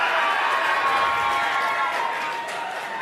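Audience at a regional Emmy awards ceremony cheering and applauding steadily for a winner, a dense crowd roar of clapping and shouts that stays loud and continuous throughout.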